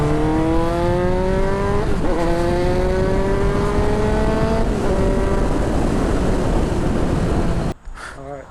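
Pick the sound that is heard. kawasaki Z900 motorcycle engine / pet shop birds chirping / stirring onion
kawasaki Z900 motorcycle engine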